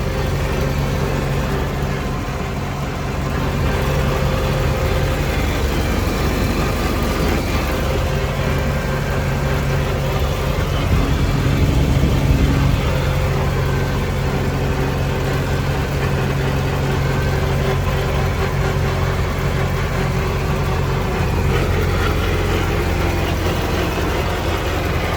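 A 1927 Ford TT truck's engine runs hard at high revs, a loud, steady, continuous drone heard from inside the cab without letup.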